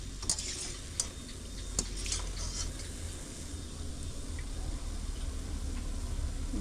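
Banana fritters (kolar bora) frying in hot oil, a steady close sizzle with a few sharp clinks of a utensil against the pan near the start.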